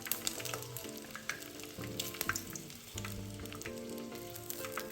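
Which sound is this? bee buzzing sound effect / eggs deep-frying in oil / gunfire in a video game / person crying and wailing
eggs deep-frying in oil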